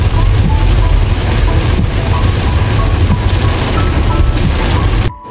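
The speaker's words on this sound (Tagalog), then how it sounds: "Ito nga't napakalakas ng ulan dito." Heavy rain pouring down in Naga, Bicol, a loud dense continuous hiss and patter with low rumble underneath, steady throughout.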